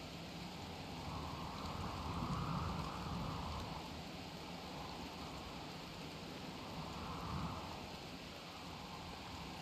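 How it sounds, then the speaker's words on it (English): Psychic rain falls in the video game Rimworld: a steady, dense rain wash with slow swells in intensity, continuous and fairly quiet, with no talking. "just sheltering from the psych rain, which will age everyone pretty dang quickly"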